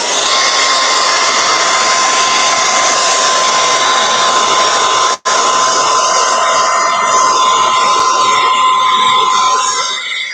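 A hair dryer blows continuously and loudly at close range while drying painted buffalo plaid, with a steady whine and a brief cutout midway, no talking over it.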